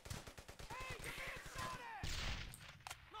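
Brothers in Arms: Hell's Highway game combat, a rapid burst of loud gunfire in quick bursts, then a heavy grenade blast with crumbling debris, while voices shout over the fighting.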